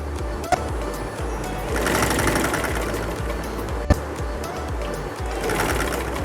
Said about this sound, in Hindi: ज़रा आगे बढ़ा कर सिलाई कर रहे हैं ताकि उधड़े ना